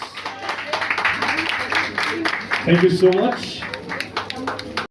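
Loud applause from a crowd at a SmartBazar cooking competition, honouring a guest doctor; steady clapping runs throughout while a voice speaks over it.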